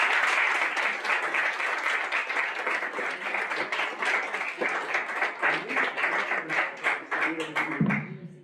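Audience applause at an arts event, dense and sustained clapping from a sizable crowd that thins out and stops at the end, with a voice briefly heard as it fades.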